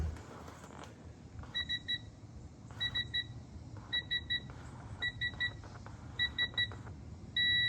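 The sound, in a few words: long beep of tool reaching 30 during Audi RS5 mount install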